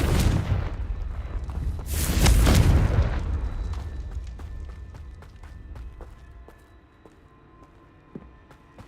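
Confringo fire spell explosions in the Hogwarts Legacy video game: a pair of heavy, booming blasts in quick succession, fading into a rumbling tail scattered with small crackles and pops.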